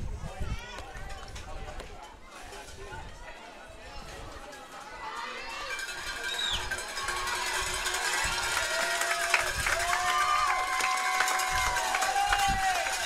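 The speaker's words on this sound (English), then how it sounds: "Got a rowdy crowd." A rowdy crowd fills the stands at a high school fast pitch softball game in Oklahoma, a steady wash of chatter and cheering with footsteps and knocks nearby, growing busier and louder midway, while people talk close by.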